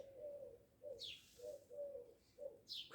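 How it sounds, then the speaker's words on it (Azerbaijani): Birds in a yard in spring, mostly a dove's repeated soft low coos in a steady rhythm with a few brief higher chirps, faint and somewhat distant, with no talking. "Quşlar da oxuyur."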